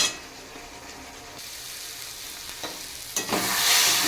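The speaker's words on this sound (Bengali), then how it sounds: "মশলাটা ভালো করে কষানো হোক, দেখা হচ্ছে।" A spice paste sizzles and fries steadily in a pan for fish curry, with soft stirring scrapes and a brighter burst of sizzle near the end, no talking.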